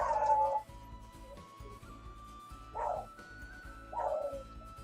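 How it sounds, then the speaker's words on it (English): A beagle terrier mix dog barks indoors, three separate sharp barks spaced a couple of seconds apart, fairly close, over a steady low hum. "My Beagle Terrier mix dog."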